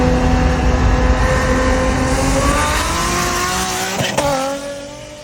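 A turbocharged Nissan 350Z with a rear-mount turbo launches off a brake boost, its engine revving hard with squealing, spinning tires, loud and close, ending in a brief skid-like scrape as the noise drops.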